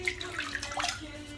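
A tap running water onto a shaving brush being wetted for the face: a soft, steady trickle and splash, close and fairly quiet, with small bright droplet sounds.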